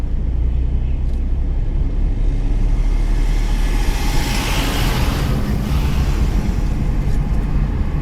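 A car engine revs and accelerates during a driving lesson, a steady loud low rumble that swells midway and holds to the end, with no talk over it.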